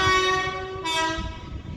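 A Class 730 electric train sounds a loud, steady two-tone horn at a station, holding the note for over a second, with the rumble of the train running underneath, heard up close.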